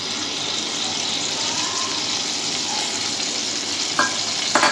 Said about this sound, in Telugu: ఇప్పుడు ఇక్కడ ఆయిల్ పోసుకొని